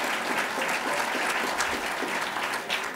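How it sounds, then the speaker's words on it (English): Audience at a public library author evening giving a round of applause, steady crowded clapping from many hands at close range, even and continuous throughout without any talking. "So let's give them a round of applause."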